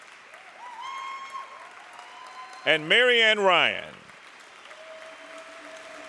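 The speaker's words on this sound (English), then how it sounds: "Let's give a round of applause to the Senior Volunteer of the Year honorees." Applause at a Governor's Service Awards ceremony for Senior Volunteer of the Year honorees, a short burst of clapping that rises under a speaker reading names and then fades back beneath continued speech.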